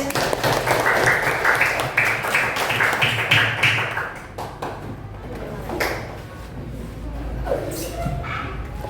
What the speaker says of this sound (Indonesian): Tepuk tangan buat Sahrudin.